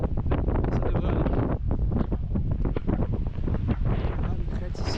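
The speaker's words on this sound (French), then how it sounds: "On a un peu de vent" Gusty wind on a mountain ridge near Mont Valier buffets the microphone in a constant roar, with rough bursts and flutters throughout, loud and close.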